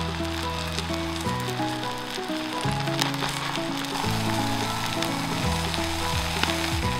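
Bread for a homemade beef sandwich toasting in a hot pan, giving a steady close sizzle and crackle with faint background music layered over it.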